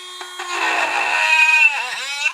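A Katerk cordless rotary tool whirs as its small bit drills into wood, a high steady whine rising and holding close for a couple of seconds before dipping briefly near the end.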